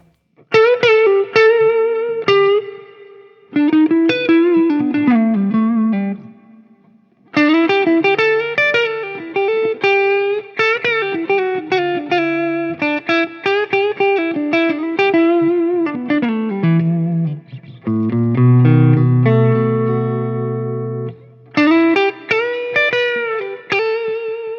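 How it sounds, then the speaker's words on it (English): Clean electric guitar through a Dr. Z Maz 18 amp playing melodic phrases and chords, with a bright, spacious plate reverb tail ringing after the notes; no voices. "There's that plate reverb from the Golden."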